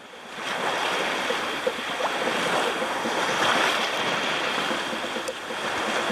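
Surf washes steadily onto the beach at Hopkins Village, Belize, a continuous broad roar of breaking waves mixed with wind buffeting the microphone, no voices.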